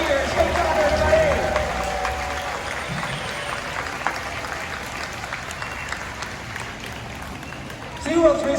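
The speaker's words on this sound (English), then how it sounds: "how about a huge round of applause for Trua, my coyote" Audience applauding at a SeaWorld killer whale show in Orlando, Florida, a broad outdoor clapping that swells at the start and slowly thins while a voice and music carry on over it.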